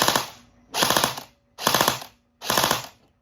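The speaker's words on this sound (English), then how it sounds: "3-round burst" An airsoft gun fitted with a burst-fire mosfet fires four sharp three-round bursts, each a loud, rapid clatter separated by short silent pauses.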